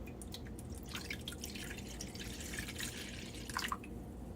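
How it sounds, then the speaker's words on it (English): Vegetable broth pours into a wok for a one-pot chicken and peas with saffron rice, a steady close liquid stream with drips and splashes running throughout, alone without talk. "So I'm going to pour the vegetable broth"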